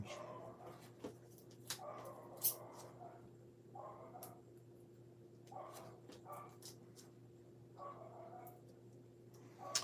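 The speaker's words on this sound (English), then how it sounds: "Henry's like losing his mind downstairs. I'm not really sure why. There's probably something outside, like another dog." A dog barks and whimpers downstairs, muffled bursts repeating every second or so over a steady low hum, faint and distant indoors.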